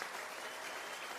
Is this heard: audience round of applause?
yes